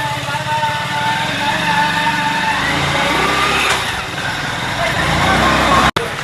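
Motorbike engine runs steadily close by, a mid-pitched hum with a slight rise as the bike pulls away, with voices talking over it and a sharp click near the end.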